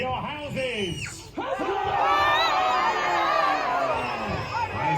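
Crowd of mostly children cheering and shouting for their rival houses, York and Lancaster, at a historical re-enactment show, a loud sustained roar of high-pitched yells following a brief dip, close and lively.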